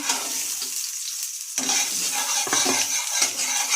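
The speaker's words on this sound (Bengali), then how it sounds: "একটু সর্ষে ফোড়ন দিলাম, কাঁচা লঙ্কা ফোড়ন দিলাম" Mustard seeds and green chillies tempering in hot oil for a bitter gourd fish curry give a steady, close crackling sizzle, sharpening at about 1.6 seconds as more spluttering and light stirring scrapes join in.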